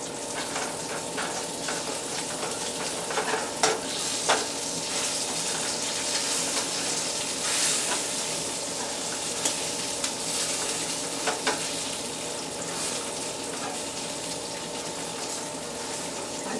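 Sausage patties sizzle steadily in a hot frying pan while a utensil chops and scrapes them, a continuous crackling hiss broken by occasional sharp knocks and scrapes, with no talk.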